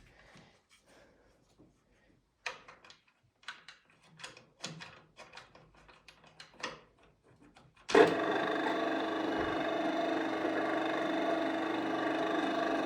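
A German drill press spindle starts up abruptly after scattered handling knocks and clicks, then spins at a steady, loud whir with a constant hum until the end.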